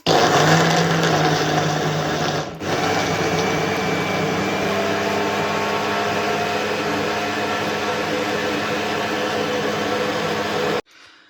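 A small electric mixer whips a liquid mixture in a closed bowl with a loud, steady whirring hum that dips briefly once, runs about ten seconds, then cuts off abruptly.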